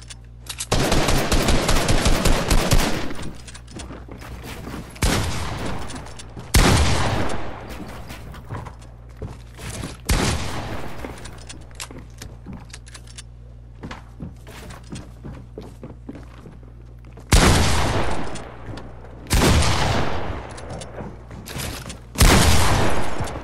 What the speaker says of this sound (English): I can hear your gunshot, the gunshots from both of us.